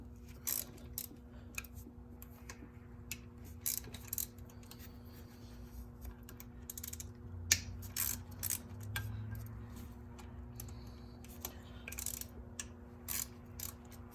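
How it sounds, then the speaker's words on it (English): A ratchet works loose the nuts on the water pump of a BMW E46: faint, irregular clicking and metallic ticks in short bursts, close up over a low steady hum, with no talking. "Get these 4 bolts out, or nuts off."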